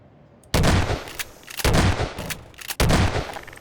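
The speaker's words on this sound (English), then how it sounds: "Okay, here's your shotgun. Shoot him." Three loud, booming shotgun blasts from a video game, each a sharp burst with a rolling tail, spaced about a second apart with brief quiet between them.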